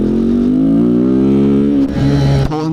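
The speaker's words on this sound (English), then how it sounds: "pull in the clutch, let her rev up, and then just drop it" A Kawasaki Z125 motorcycle engine revs loud and close, a strong rising drone that climbs steadily, then dips and jumps as the revs drop and pick up again near the end.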